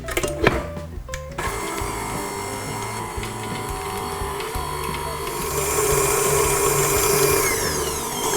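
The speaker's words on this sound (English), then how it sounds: "I'm just going to get that onto the mixer and mix it on a medium speed for about a minute." Stand mixer beating butter and free-range eggs at medium speed for cupcake batter: a steady, close mechanical whir with rhythmic beater clatter, rising slightly toward the end, with no voices.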